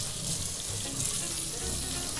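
Hot water from a tap runs steadily over a metal cake scraper, a loud, continuous close hiss of splashing water with no break.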